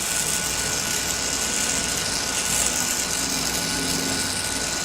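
A torch flame hisses steadily while heating brass on a Marvel Schebler carburetor, a constant close roar with a slight fluctuation around the middle and no talking.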